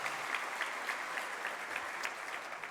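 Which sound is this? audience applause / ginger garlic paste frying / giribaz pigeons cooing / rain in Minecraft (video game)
audience applause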